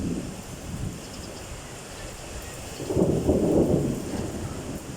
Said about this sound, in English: rain's starting to slow down